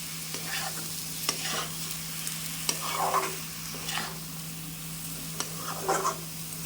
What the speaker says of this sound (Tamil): லைட்டாக கிளறிக்கோங்க, ரொம்ப கிளற வேண்டாம்.